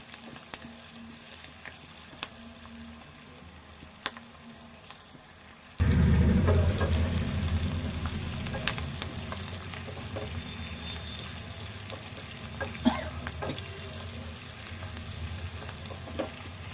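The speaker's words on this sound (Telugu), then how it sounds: "పల్లీలు, శనగపప్పు, మిర్చి, ఉల్లిపాయ అన్నీ వేగాలి." Peanuts, chana dal, green chillies and onion fry in hot oil for an upma, a loud steady sizzle that bursts in partway through and continues with occasional stirring clinks, close up.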